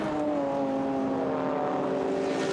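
BMW 325i and M3 GTR race cars at Zandvoort circuit, engines droning at a steady, fairly distant pitch with a faint rising whine, no voices over them.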